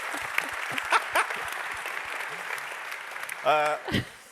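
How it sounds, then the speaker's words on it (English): A conference audience at a radio industry event gives brief, fairly quiet applause that runs beneath a speaker's voice, with a short louder swell near the end. "Let's give him a round of applause because that was a good one."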